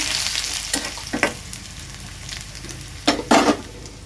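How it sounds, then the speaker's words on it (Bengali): Mustard greens fry in a kadai with garlic and onion: a constant soft sizzle with several sharp stirring scrapes and clatters near the end, heard up close. "এখন হচ্ছে ভাজি করে নিব রসুন পেঁয়াজ দিয়ে"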